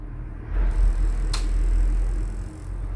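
A large truck drives past outside, a low heavy rumble swelling and fading over a few seconds, heard indoors at moderate level with a brief knock midway.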